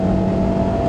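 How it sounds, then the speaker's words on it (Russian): A Daihatsu Be-Go with a 1.5 litre engine roars steadily under acceleration from inside the cabin, a loud sustained engine drone with a constant tone. "Сейчас у нас будет свободный участок и немножко дадим газу. Мотор ревет."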